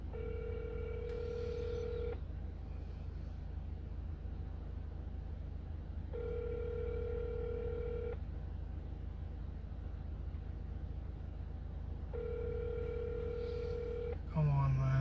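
A phone places a call, with a steady ringback tone repeating in long beeps about every six seconds over a constant low hum inside a car, ending with a brief higher tone.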